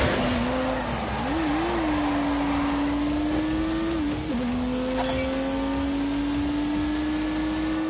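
A turbocharged 3-litre straight-six car in The Grand Tour video game accelerates through the gears, a loud steady engine drone rising in pitch with two brief dips at gear changes, close and continuous with no talk.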